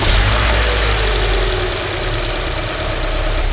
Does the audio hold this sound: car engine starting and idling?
yes